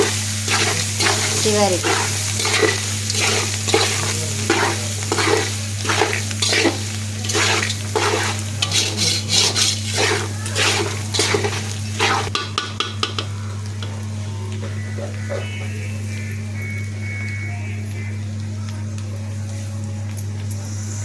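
Roasted gram is stirred with salt in an oily pan, giving a rhythmic run of scraping and rattling strokes over a low steady hum, then quieter sizzling. A voice speaks briefly.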